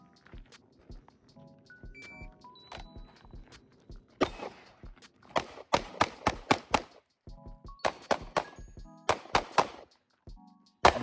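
Pistol shots fired during a tactical shooting drill with cars and cover, sharp cracks in quick clustered bursts alternating with single reports, mixed with faint movement sounds between volleys.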